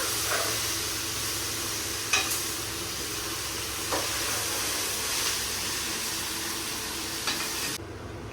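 Onions and tomatoes fry in a pan for hotel-style chana, a steady sizzle and hiss with a few brief stirring clinks, close and even throughout.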